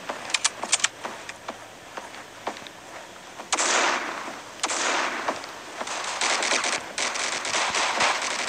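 Gunfire in a video game, sharp quick shots early, then longer bursts of rapid fire with loud noisy blasts and clattering mechanical clicks, close and continuous toward the end.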